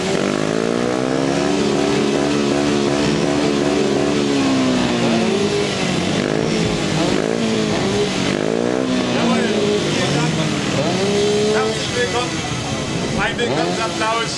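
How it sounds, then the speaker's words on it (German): Several single-cylinder motorcycle engines rev and idle together at a motorcycle meet in Scheibenberg, loud and continuous, with rising and falling throttle blips throughout and voices and crowd noise underneath. "Lasst uns mal die Motoren starten. Wir fangen an mit denen, die Einzylinder verbaut haben."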